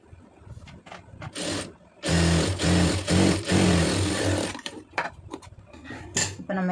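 A sewing machine runs a straight stitch along a folded quarter-inch blouse hem, whirring in short bursts and one longer pulsing run, with scraping and handling of fabric between.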